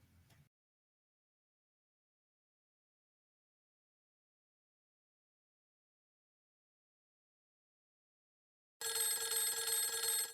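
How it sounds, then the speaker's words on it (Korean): A telephone rings with an incoming call during a real-estate conversation, a sustained electronic ring that starts abruptly after a long silence and runs steadily to the end, loud and close. "내가 지금 전화 들어오는데 또 전화 드릴게요"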